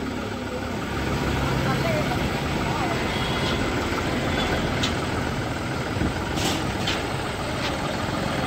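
A John Deere GearPro tractor engine idles and runs with a steady low rumble as the tractor is unloaded from a double-deck transport truck, with faint clanks near the end.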